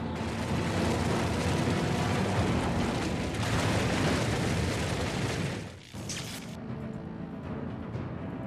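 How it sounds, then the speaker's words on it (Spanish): Bridge towers giving way as the remains of a major bridge collapse: a sustained, loud, dense roaring rumble that drops away near the end, followed by quieter debris noise. "Finalmente las torres ceden y lo que quedaba de un importante puente desaparece."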